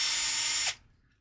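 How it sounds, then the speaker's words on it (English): A power driver whirs steadily while screws go into an RC crawler during assembly, a single close, loud, high-pitched run that stops abruptly, leaving near silence. "you are all watching me screw this thing in"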